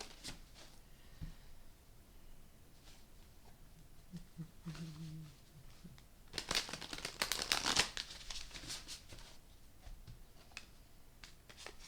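A deck of tarot cards is shuffled in a quiet room. Soft, faint handling and riffling sounds build into a louder burst of riffling in the middle of the clip, with scattered light taps and rustles around it.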